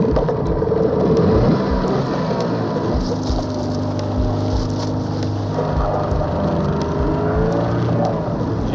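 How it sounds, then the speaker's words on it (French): A small fishing boat's outboard motor is being started, with a sputtering, revving engine that rises and catches, then a steady whirring drone with rhythmic low pulses under it, loud and close, with no talking. "Koudoula tente de faire partir le moteur."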